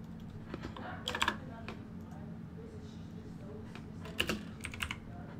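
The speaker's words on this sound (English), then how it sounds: "Why am I typing in caps?" Typing on a computer keyboard, sparse clusters of crisp key clicks separated by pauses, heard close over a low steady hum with faint talking.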